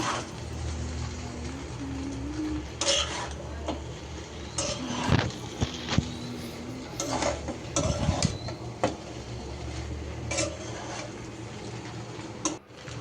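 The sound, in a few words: stirring noodles with peas in a pan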